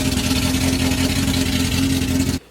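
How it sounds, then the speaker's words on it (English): A cheap track car's engine idles loudly and steadily, a constant rumble with a strong low hum that cuts off abruptly near the end. "we got a running engine in the car."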